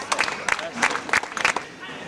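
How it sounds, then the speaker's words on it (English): Scattered applause from an audience at a school academic awards ceremony comes as loose, uneven bursts of clapping, with voices from the crowd mixed in throughout. "So a nice round of applause for this young lady."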